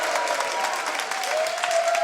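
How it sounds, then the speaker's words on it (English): Fans at a women's college basketball quarterfinal clap and cheer loudly after a foul, a dense steady wash of applause with a squeak of sneakers on the court. "Fans are cheering probably because Foley will have the opportunity to score"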